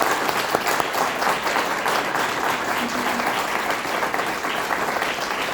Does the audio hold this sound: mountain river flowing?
no